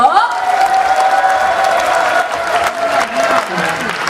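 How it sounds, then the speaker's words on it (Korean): A parish audience at a church year-end thanksgiving festival applauds for the elderly Bible study group, a lively burst of clapping with some cheering, and a voice speaking over it. "우리 특별 출연해주신 어르신 성경 모임 잘하시라고 우리 한 번 더 박수 보내주십시오"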